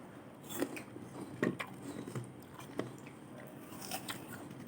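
Someone bites into and chews a super crunchy, sweet yellow apple, with several sharp, close crunches standing out at irregular moments against a faint background hiss.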